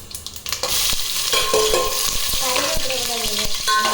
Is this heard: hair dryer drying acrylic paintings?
no